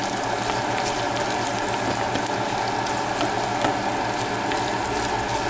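Eggs frying in a pan alongside wieners, a steady close sizzle with small crackles and pops throughout, no talking.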